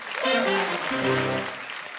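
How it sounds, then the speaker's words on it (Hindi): A studio audience on a Hindi comedy talk show applauds, a broad steady wash of clapping heard under tonal voices and music-like sounds rising and fading across the moment. "इनके लिए जोरदार तालियां।"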